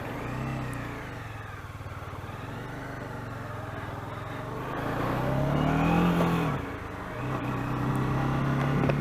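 A Bajaj Dominar 400 motorcycle ridden at night, its engine droning steadily and close, rising in pitch briefly as it accelerates before settling back to a steady cruise.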